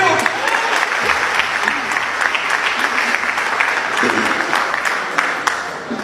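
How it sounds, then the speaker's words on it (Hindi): An audience claps in a dense, continuous burst of applause at a public speech, loud and sustained throughout, with faint voices mixed into the crowd noise. "तालियां तो मारो, सुनते हो"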